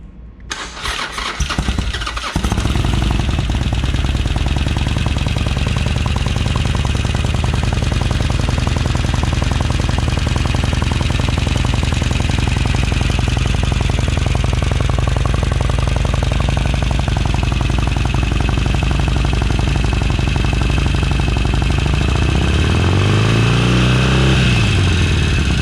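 A 2017 Harley-Davidson XL1200CX Sportster Roadster with a Stage IV engine cranks over and fires up, then settles into a loud, steady, throbbing idle close by, with a brief blip of revs near the end.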